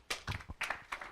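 Audience applause at a health-tech venture capital panel: a short, sparse patter of a few hands clapping, fairly faint and brief.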